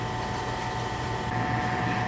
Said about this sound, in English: That's the sound of the dishwasher. I think it's on its last legs.